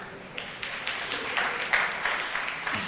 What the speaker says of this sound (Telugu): వెరీ గుడ్ తమ్ముడు, చప్పట్లే తమ్ముడికి.